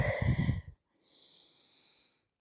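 A single deep, slow exhale during a yoga breathing exercise, soft and close, running for about a second after a sharper breath.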